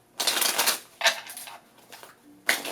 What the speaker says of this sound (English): I want you all to now shuffle your cards.